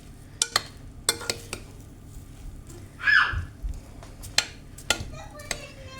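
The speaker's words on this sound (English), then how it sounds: "Just going to give it a stir." A spoon scrapes and clinks against a pot while stirring oven-cooked rice, giving several sharp metallic taps and a short soft scraping rustle in a quiet kitchen.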